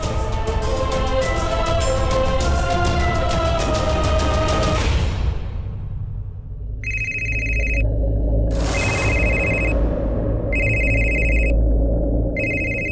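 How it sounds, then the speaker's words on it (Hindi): Telephone ringing in a dramatic Hindi TV scene. Several evenly spaced electronic ring bursts sound clearly in the second half, following a stretch of loud dramatic music, with no talk. "हाँ गौरी, मैं तुम्हें ही फोन करने वाला था"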